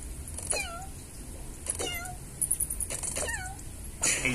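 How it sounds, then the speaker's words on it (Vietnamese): Lion characters in a mobile arcade game let out three cat-like meows at roughly one-second intervals, each a brief swooping cry over a constant game soundtrack, followed by a short burst of game effects. "Hai con sư tử mà nó kêu tiếng con mèo nha."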